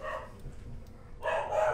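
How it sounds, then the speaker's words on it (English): Dogs barking in a quick burst of a few barks, moderately close, with no talking over them. "Dogs are barking. They're always barking."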